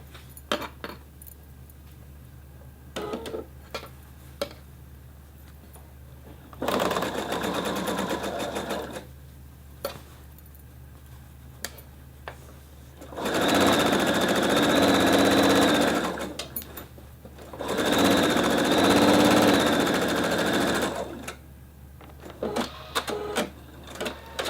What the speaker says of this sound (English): we're just going to sew that seam again